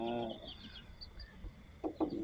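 A pet bird in a cage gives a few short chirps and calls near the end, over faint room noise, after an opening stretch of harmonic tones.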